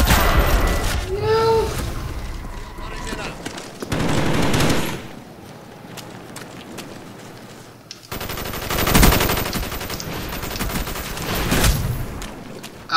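Bursts of automatic gunfire and shots in Call of Duty Black Ops multiplayer against bots, loud rattling volleys coming in several clusters, with voices talking over parts of the action.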